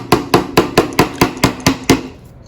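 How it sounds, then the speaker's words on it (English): Nine quick, evenly spaced hammer taps drive a push pin into a stretched canvas for acrylic pouring, each a sharp close knock in steady rhythm, with no talking over them. "take our hammer and just hammer that down just a little bit"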